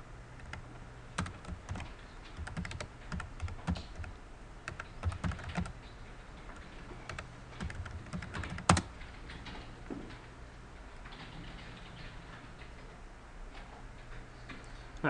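A computer keyboard being typed on while entering MySQL server commands, with irregular bursts of close, crisp key clicks and occasional louder strikes, then a quieter stretch near the end.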